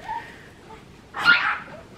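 A chihuahua puppy lets out a single sharp, high yip at close range, standing alone against a quiet indoor background.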